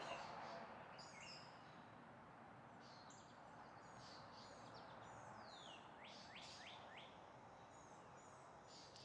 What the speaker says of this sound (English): Birds are just going off this morning.